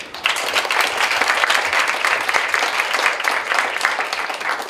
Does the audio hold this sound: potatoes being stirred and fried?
no